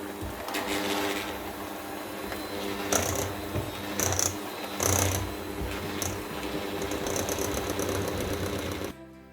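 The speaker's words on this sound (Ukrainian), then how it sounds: "збиваємо наш сир міксером" An electric hand mixer beats soft cheese for a Lviv-style syrnyk, whirring steadily and close with a mechanical rattle, rising briefly in brief bursts before cutting off at the end.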